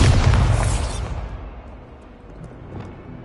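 A Bombarda spell blasts in Hogwarts Legacy with a loud boom right at the start that rumbles and fades over about a second, leaving a quiet tail and a small pop near the end.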